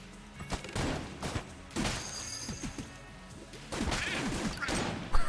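A hegemony rifle in the video game Enter the Gungeon sprays many bullets, heard as fairly quiet clusters of rapid, crackling shots in two main bursts, with scattered thuds and crashes between them.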